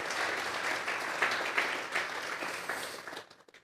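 A church congregation applauding together, a dense, steady wash of clapping hands that carries on for a few seconds before tapering off into a few scattered claps at the end.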